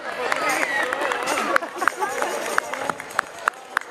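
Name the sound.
applause of the Prešov audience as a folk ensemble enters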